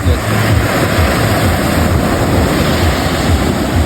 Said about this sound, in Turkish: Size Hindistan okyanusunu gösteriyorum arkadaşlar.